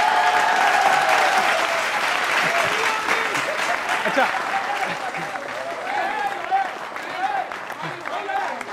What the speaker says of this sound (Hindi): अब तालियां उठाना